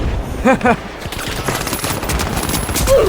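Rapid bursts of gunfire crackle during a shooting-practice minigame in the video game The Finals, with several quick volleys in a row while a player talks over them.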